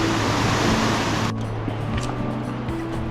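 Miners Creek, a mountain creek: steady broadband rush of flowing water, loud and continuous, with a brief dip in the high hiss partway through and no voices.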